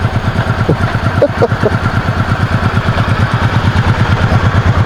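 A 1990 Honda Pacific Coast 800 motorcycle engine idles quietly and steadily with a low, even, rhythmic putter, close by and fairly constant throughout.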